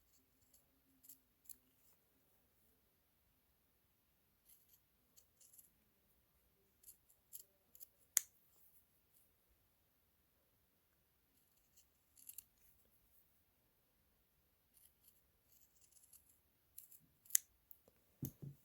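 Scissors trim fabric for a quilted embellishment project, with faint, sparse snips and clicks scattered across a quiet room.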